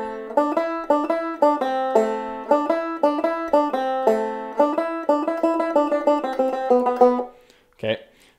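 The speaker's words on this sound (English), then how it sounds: "the chorus banjo part" Banjo picking the chorus part of a song in a shuffle feel, bright rolling notes in an uneven long-short rhythm, close and solo, ending with a brief sound after the playing stops.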